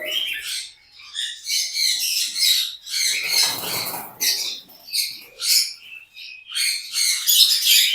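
Lovebirds and parrots at a bird farm fill the air with dense, overlapping high chirps and squawks, a busy flock calling continuously and loudly, some birds close by.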